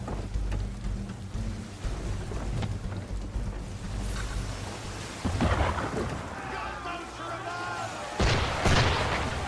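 Cannon fire booms at sea in Assassin's Creed 3. Heavy rumbling blasts and crashes sound over constant wind and water noise, with game voices talking in between.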